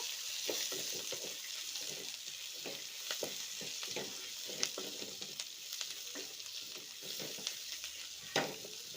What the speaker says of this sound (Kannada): ಈಗ ಇದನ್ನು ಸ್ವಲ್ಪ ಫ್ರೈ ಮಾಡ್ಕೊಳ್ಳೋಣ.